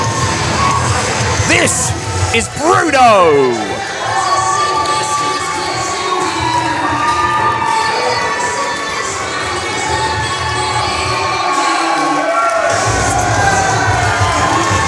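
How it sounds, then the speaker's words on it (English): A crowd at a live Mayhem Pro wrestling event cheers and shouts loudly and steadily, with whoops and children's voices mixed in, while a commentator talks over the noise. "Listen to the crowd cheering for the Kodiak."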